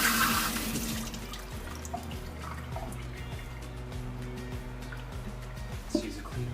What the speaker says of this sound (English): We're going to give it a quick rinse.